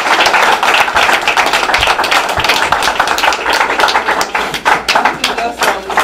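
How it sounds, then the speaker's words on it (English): An audience at a live session claps steadily in a warm, continuous round of applause that lasts several seconds, with scattered louder claps near the end. "Can we give them a round of applause?"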